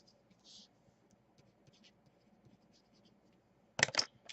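A wooden fate stick is pulled from a set with a brief, close rattling scrape near the end, after quiet faint rustles.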